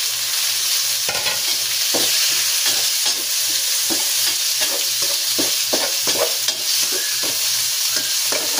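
Tomatoes for chicken tinola are sautéed in a hot pan, a loud continuous sizzle and hiss broken by rhythmic scraping strokes of a spatula, close up and without talk.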